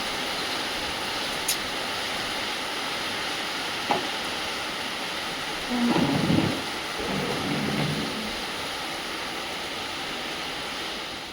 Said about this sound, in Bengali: দেখো আবার ঝেপে পুরো বৃষ্টি